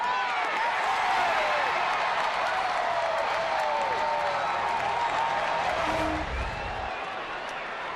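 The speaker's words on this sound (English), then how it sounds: "That's the crowd as they're waiting for this thing to land." A baseball stadium crowd at an Oakland at San Francisco game roars as a home run ball carries out, a broad, steady distant cheer that swells, then eases near the end.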